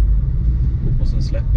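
A vintage VW Polo Mk2 engine rumbles steadily up close, its low drone swelling slightly as the throttle is pressed, with faint higher mechanical whines near the end.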